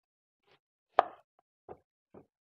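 An onion being chopped with a knife on a board: four sparse, separate knocks, with one sharp louder strike in the middle and softer taps after it, each followed by short quiet gaps.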